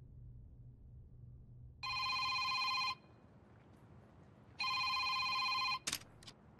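A telephone rings with an incoming call in a quiet room, two long electronic bursts with a pause between them, followed by a faint click as the call is picked up.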